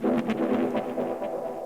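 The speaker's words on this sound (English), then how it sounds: "So sort of dubby style pad." A dubby-style synth pad for an ambient electronic track, processed with the Tantra effect plugin: a warm, sustained chord with soft, pulsing rhythmic flutters, moderately quiet and heard alone.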